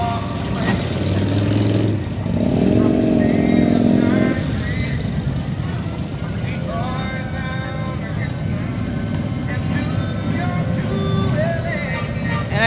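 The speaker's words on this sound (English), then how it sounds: "Lots of Harleys." Harley-Davidson motorcycles roll past in a July 4th city parade, a steady engine rumble and occasional revving under continuous crowd noise and a commentator's talk throughout.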